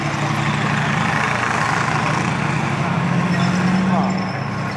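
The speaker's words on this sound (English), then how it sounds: "Just listen to these lovely different engine notes as these amazing collection of Second World vehicles." A Second World War tank with a Meteor engine and a small fishtail exhaust, no silencer, rumbles steadily at low idle, loud and close, with deep continuous engine tone; a voice talks over part of it.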